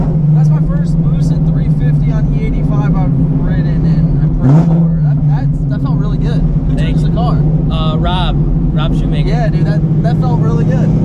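Boosted 800-horsepower Shelby GT350 running on E85, its engine droning steadily and loud from inside the cabin throughout, with a brief surge of acceleration midway and people talking over it.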